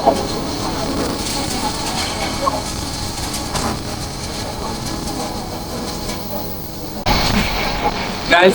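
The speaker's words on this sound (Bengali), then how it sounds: "আমরা এখন কোচবা রেলওয়ে স্টেশন পার হয়ে যাচ্ছি" A passenger train on the Brahmanbaria–Comilla line runs past Kochba railway station, heard from on board as a continuous rumble and rattle of wheels with faint clicks, a louder burst near the end.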